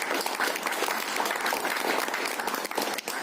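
Dense, steady applause from a large audience at a Hindi-speaking leadership gathering, many hands clapping continuously at an even level for a few seconds with no break.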